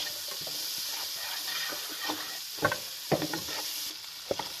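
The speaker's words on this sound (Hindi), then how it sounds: "अभी मंचूरियन बना रहे हैं तो ये बस इसको हल्का सा सौटे करेंगे" Chicken manchurian is sautéed in a pan, giving a steady sizzle with scattered scrapes and clinks of stirring, close by and without speech.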